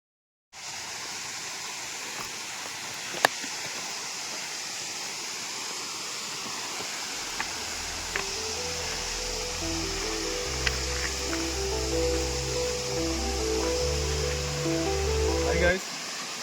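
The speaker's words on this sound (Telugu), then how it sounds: "ఇది పెద్ద వాటర్ ఫాల్." The Saptagundala (Mitte) waterfall gives a constant, dense rushing roar from start to finish. A steady tonal music line comes in over the second half.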